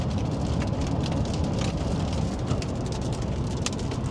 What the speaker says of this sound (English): as soon as we get out of this rain